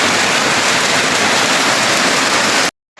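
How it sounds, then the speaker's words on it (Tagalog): Heavy rain pours in a dense, loud, unbroken hiss, then cuts off abruptly just before the end. "inabot tayo ng malakas na ulan. Grabe, lakas ng ulan."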